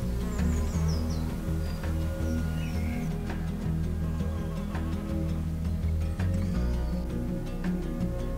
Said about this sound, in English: The solitary bees are, currently flying around my head